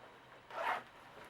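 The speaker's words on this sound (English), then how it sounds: "we've got huge underarm zipper vents you can open from the top down" A zipper on the underarm vent of a Rivers West Isolation Jacket is pulled open in one short, close, soft rasping run that swells and fades, with no one talking.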